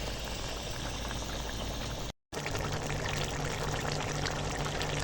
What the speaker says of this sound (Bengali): এখন ফুটে যাওয়া পর্যন্ত অপেক্ষা করব